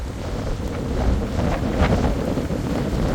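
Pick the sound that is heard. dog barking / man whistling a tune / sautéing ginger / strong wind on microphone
strong wind on microphone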